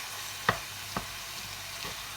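A utensil stirs ground beef mixed with onion in a pan, with a faint sizzle underneath and two or three soft scraping taps spaced apart, no talking.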